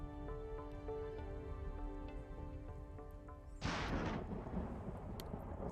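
A storm rolling in at a base in the colony-building game Planetbase: a sustained tonal ambient hum gives way to a sudden loud gust or rumble of wind and storm noise that continues to the end, with no talk.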